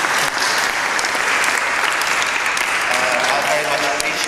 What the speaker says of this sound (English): So I think a big round of applause of thanks.